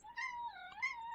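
A cat gives a single drawn-out meow with a rising and falling pitch, moderately quiet and close, heard alone.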